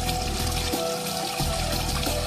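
Clean water pours steadily into a cupped hand outdoors, giving a soft continuous splashing trickle at close range.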